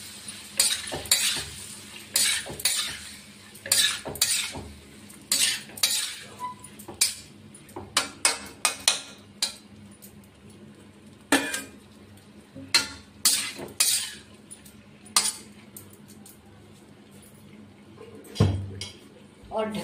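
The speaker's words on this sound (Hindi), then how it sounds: "अब डाल देंगे इसमें आलू, इसको अच्छे से मिक्स कर देंगे" Potatoes being stirred into a tomato curry in a pan, with scattered spoon clinks and scrapes against the metal at irregular intervals, moderately close, and occasional speech.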